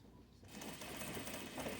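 A sewing machine stitches a corset seam, starting after a short quiet pause and then running steadily and close for the rest of the moment.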